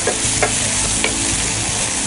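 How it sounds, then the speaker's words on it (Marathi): Onion-tomato masala frying in a pan while being stirred, a loud close sizzle with scraping spatula strokes and a couple of sharper clicks, with nobody talking. "हा आपला मसाला थोडा फ्राय झाला आहे."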